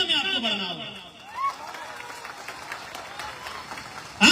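A crowd at a political speech in Jharkhand claps in a steady wash of applause while a voice carries over it through the start.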